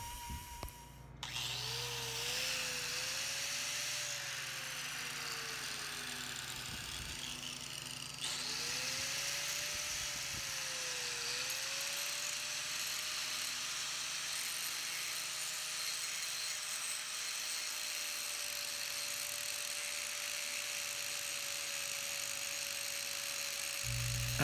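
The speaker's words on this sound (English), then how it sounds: "After grinding away the center of the ring" A power grinder runs steadily, wearing away the center hole of a hand-forged Damascus steel ring held in a vise, a continuous mid-level whine that dips in pitch under load twice, with no talking.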